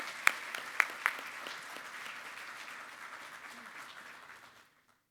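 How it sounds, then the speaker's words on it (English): Applause from a sheriffs' association general session audience, opening with a few sharp, loud claps before settling into a softer, steady crowd clapping that fades out near the end. "Let's give them a round of applause."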